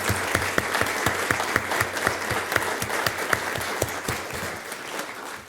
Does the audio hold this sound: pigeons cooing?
no